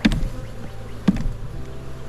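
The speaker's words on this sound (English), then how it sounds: "decent amount of bees down here" A low, steady buzz of honey bees in a hive during inspection fills the background, with two brief sharp knocks standing out; no one speaks.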